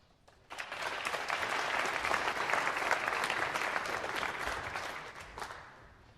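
Home crowd at a 2012 World Pool Masters match in Poland bursts into applause, steady dense clapping that starts abruptly, holds strongly for several seconds, then tapers off near the end.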